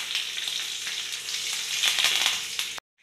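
Curry leaves and mustard seeds sizzling in hot coconut oil with split dried red chillies, a loud bright crackling hiss that swells and spatters, then cuts off abruptly near the end.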